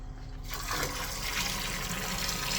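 A Mark II brewery pump switches on and pushes water, building within half a second into a steady rushing, hissing flow with a slight underlying whine, continuous and close.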